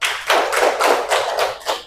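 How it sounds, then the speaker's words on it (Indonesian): Classroom applause for a student during a primary maths micro-teaching lesson: a brief burst of several hands clapping in uneven rhythmic pulses, fairly close and alone without talk. "Tepuk tangan buat Mbak Erlita."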